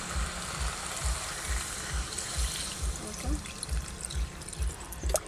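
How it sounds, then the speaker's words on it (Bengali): Water poured into a pan of jackfruit and prawn curry, a steady close trickling pour with a soft rhythmic knocking beneath it throughout. "এবার জল দিয়ে দেবো পরিমাণ মতো"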